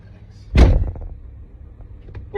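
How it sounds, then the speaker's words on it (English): A car door slammed shut once, a sharp loud thud with a short rattling tail, then quieter interior shuffling in a parked car. "Why are you slamming the door?"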